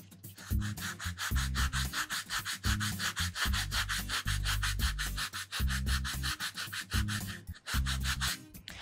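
Sandpaper is rubbed over EVA foam for a cosplay finish, producing close, rhythmic back-and-forth rasping strokes in short bursts with brief pauses.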